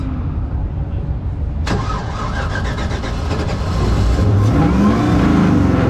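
A car with an LSA6 engine, a little flooded, cranks and fires at a dyno day, with a sharp onset and then a steady running rumble that builds loudly and continuously, up close.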